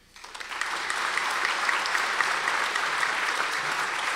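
An audience claps for graduate Hannah Fink at a University of Iowa commencement. The applause is steady, dense and fairly loud, and it swells quickly after a brief quiet start.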